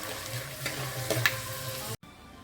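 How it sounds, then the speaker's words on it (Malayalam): Peanuts frying in hot oil, a steady close sizzle with a few stirring scrapes, ending abruptly in a short pause. "കപ്പലണ്ടി നന്നായിട്ട് മൂത്തിട്ടുണ്ട്. ഇത് നമുക്ക് എണ്ണയിൽ നിന്നും കോരി മാറ്റാം."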